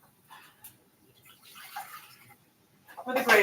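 Water from a tap pours into a measuring cup for gravy mix at a kitchen counter, arriving as a short, close rush of splashing near the end after quieter kitchen rustling.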